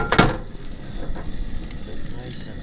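Beaver fat sizzling and crackling in a hot frying pan at a winter truck camp, a steady close hiss with a brief louder pop near the start, with no talking.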